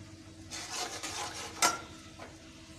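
Finely chopped onions browning in hot oil in a pan for restaurant-style mash daal: a soft sizzle under a utensil stirring and scraping, with one sharp metallic clink partway through.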